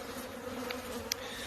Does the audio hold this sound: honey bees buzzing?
yes